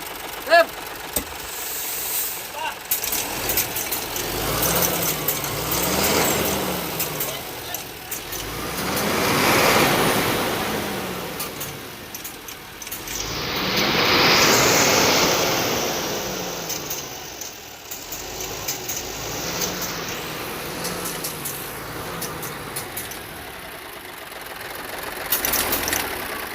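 An Isuzu 6UZ1 turbo diesel with a non-working VGS turbo drive and a low-power fault idles at low rpm with a faint, steady knock. Revs swell and fall in slow waves, and voices talk nearby.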